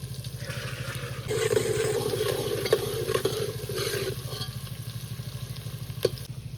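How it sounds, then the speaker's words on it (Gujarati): Onions sizzling and frying in a pan of oil for a homemade Gujarati dish, a steady crackling hiss over a low rhythmic hum, with occasional stirring clinks. "ભાઈ ડુંગળી પકાવવાનું કામકાજ ચાલુ થઈ ગયું છે"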